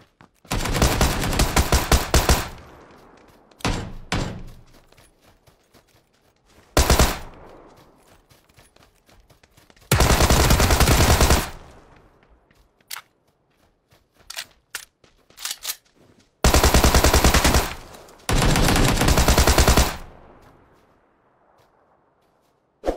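Gunfire rings out in PUBG in loud, dense automatic bursts separated by short gaps and scattered single shots, with a run of sustained firing that later trails off into quiet.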